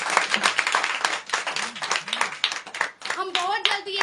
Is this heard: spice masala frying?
no